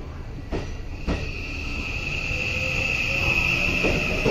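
A JR 207 series electric train rolls slowly through Nishi-Akashi station under a 25 km/h limit, a steady rumble with a high, sustained wheel squeal and a couple of sharp clunks early on.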